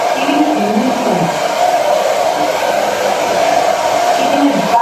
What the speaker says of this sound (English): We're not focusing the hair dryer on one spot.